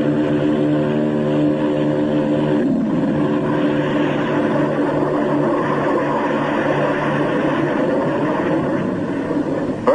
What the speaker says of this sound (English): In the critical 10 seconds at takeoff, they give the kick-up of two added engines.